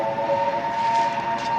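Sustained tonal horn of a train approaching on the tracks, a steady whistle-like blare layered over a rumbling low background.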